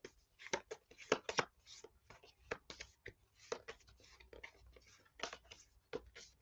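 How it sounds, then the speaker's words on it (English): Quick riffling and sliding of playing cards in a steady flurry of soft crisp snaps, close by, continuing for several seconds. "we are going to shuffle these cards around."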